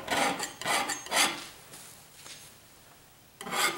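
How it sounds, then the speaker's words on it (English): A palette knife scrapes paint across a canvas during landscape painting, making three quick rasping strokes close up, then a quieter pause before another scrape near the end. "palette knife to scrape in some stuff"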